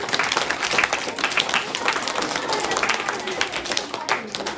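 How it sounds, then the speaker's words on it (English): A school crowd applauds a group after a patriotic song competition at an Independence Day celebration, dense continuous clapping of many hands filling the space, fairly loud and steady throughout. "Let's clap for them."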